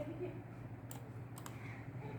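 Quiet typing of a number on a computer keyboard, a few faint soft clicks over low room hum, with two or three sharper isolated key taps near the middle.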